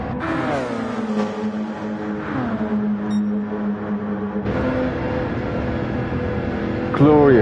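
Race car engines from a PlayStation endurance racing game at Le Mans, a steady droning whine that shifts pitch as cars pass, with a Porsche pulling away and a louder surge near the end, under commentator talk.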